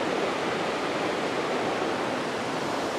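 Roaring rush of the Potato River pouring over Potato River Falls, heard from high above on the rocky, timbered rim: a steady, dense wash of falling water that fills the whole stretch without pause or voices.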